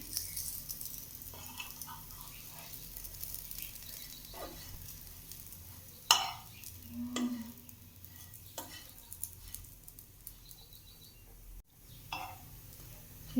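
A chickpea mixture roasts in a pan, giving a quiet, faint sizzle with occasional scrapes and a few sharper clinks as it is turned. Nobody speaks.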